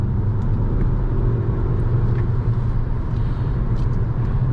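A 2010 Volkswagen Jetta SEL accelerates on an open road, heard from inside the cabin as a steady low engine and road rumble that holds level throughout without a distinct gear change.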